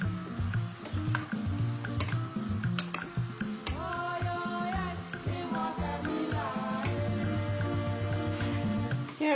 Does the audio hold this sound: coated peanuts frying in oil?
yes